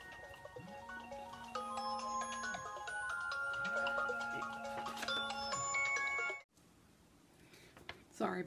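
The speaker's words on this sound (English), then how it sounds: "Sorry about the phone ringing." A phone ringtone repeats in two long electronic rings with a melodic pattern, nearby, while a person talks over it; it cuts off abruptly.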